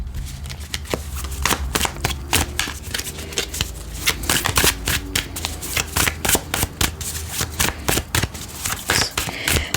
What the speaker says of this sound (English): See, I am shuffling.